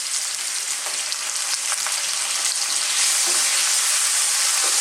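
Tomato hits a hot pan for Filipino ginisang upo with shrimp and sautés in a bright, continuous sizzle with scattered crackles and light stirring scrapes, no voices.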